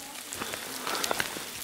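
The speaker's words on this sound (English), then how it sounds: "See it hitting there? Little tiny pieces of hail." Tiny pieces of small hail patter on the ground in a burned forest, a light scattered ticking of sharp impacts with a few louder hits, close by and without talk.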